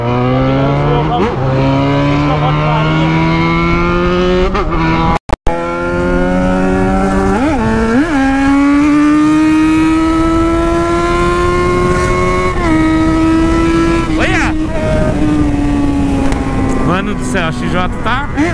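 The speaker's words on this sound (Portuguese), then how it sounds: "Essa é minha moto." A motorcycle engine hums steadily while riding, its pitch rising and falling through gear changes, with one brief dropout midway and a louder rev near the end.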